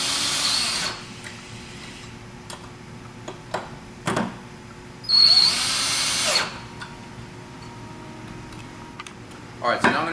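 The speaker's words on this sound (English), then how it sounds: "all you do is you take your drill, go quickly on the top, holding the upright down, and quickly bolting these things in place" Power drill quickly bolting T-Rac rack cleats in place on a truck rack upright, short whirring bursts separated by pauses, with a longer run in the middle and small clicks and handling noises between.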